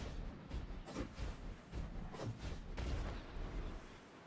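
Repeated booming launches and blasts from rocket fire in the video game Destiny 2, arriving in uneven bursts with a constant low rumble underneath and no voices.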